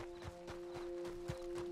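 Hoofbeats of a horse in Red Dead Redemption 2 thud at a steady walk, a few soft impacts set against a constant hum of game music or ambience, no voices.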